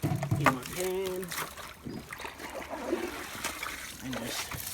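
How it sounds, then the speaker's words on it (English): While sluicing for gold, water is scooped into a gold pan with brief splashes and trickles, close by, as a person's voice murmurs nearby. "Get some water in my pan."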